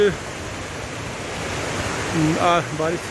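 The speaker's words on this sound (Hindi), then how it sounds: "झरना जो कि बड़ा सुंदर हमें लग रहा है" A waterfall on a mountain pilgrimage route in rainy weather, heard as a steady broadband rushing roar throughout, with a voice talking over it near the end.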